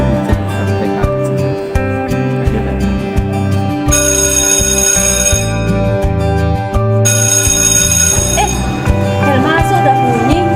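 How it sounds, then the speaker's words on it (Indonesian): An electronic school bell at an Indonesian vocational school signals the start of class, playing a loud, repeating melodic chime tune that rings steadily for about ten seconds with bright, tonal notes. "Bel masuk udah bunyi."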